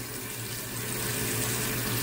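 Tap water running steadily into a sink during handwashing, a constant close hiss and splash that swells slightly louder partway through, with no voices.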